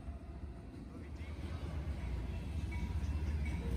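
Two CSX freight trains meet at close range, a steady low rumble and rolling rattle that swells gradually louder, heard at a distance without talk.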